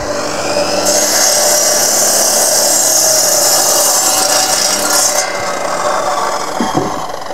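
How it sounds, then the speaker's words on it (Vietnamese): A power cutting blade slicing through nails at a house construction site, a loud sustained high-pitched whine and grinding that runs steadily for several seconds before easing, with no speech. "lưới cắt này mới chắc là cắt được cả sắt đấy nhỉ"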